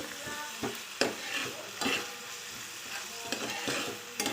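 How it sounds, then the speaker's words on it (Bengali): Vegetables with garlic and chicken stirred in hot oil in a pan, a steady close sizzle broken by several sharp scraping stirs of the spatula. "সবজিটা নেড়ে ছেড়ে আমি একটু সাইড করে দেবো কারণ এই তেলের মধ্যেই আমি ডিমের ঝুড়িটা করব।"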